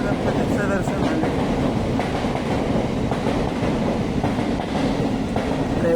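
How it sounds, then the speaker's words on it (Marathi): A train rumbles past continuously and loud with clattering wheels during the Ganesh festival in Mumbai's Lalbaug area, a dense steady roar with rhythmic clicks and brief metallic squeals. "ट्रेनचा आवाज."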